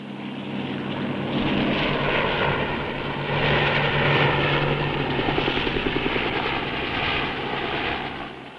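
A helicopter flies steadily with a dense, rumbling rotor and engine drone, loud and continuous throughout, the rotor chop pulsing faintly beneath a broad roar.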